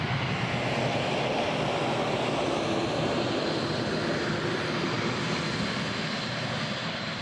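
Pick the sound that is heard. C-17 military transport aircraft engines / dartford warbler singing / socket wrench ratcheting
C-17 military transport aircraft engines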